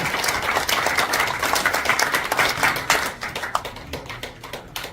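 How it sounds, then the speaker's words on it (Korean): An audience at a foundation launch ceremony in Korea claps together in dense, sustained applause that gradually thins into scattered, sharper individual claps toward the end. "박수 부탁드립니다"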